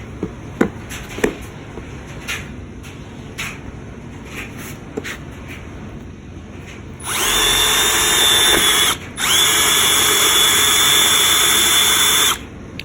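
A Milwaukee M12 Gen2 cordless drill, not in hammer mode, runs loud and close in two steady bursts of whining motor noise with a brief pause between, after several sharp taps and handling knocks.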